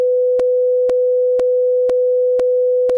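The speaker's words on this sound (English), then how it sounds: "what I've got here is just a 500 hertz sine wave" A steady 500 Hz sine wave test tone plays alone, a pure unbroken note with faint regular clicks recurring about twice per second throughout.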